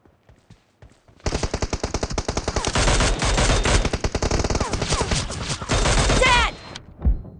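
Rapid automatic rifle fire in a PUBG team deathmatch: dense, loud bursts of shots running almost continuously for several seconds, with a brief pause and a final volley near the end.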